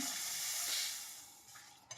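Dried red chillies dry-roast in a pan, heard as a soft, quiet hiss with scraping stirs and a small knock near the end.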